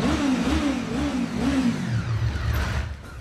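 A motorcycle engine revs on a street, wavering pitch rising and falling as the throttle is worked, fairly close and steady before easing off at the end.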